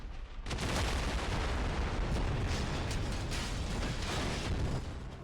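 Bases explode in the shooter game Trepang2, a sudden loud blast followed by a sustained rumbling roar of continuous detonations and crackling debris that fades slightly at the end.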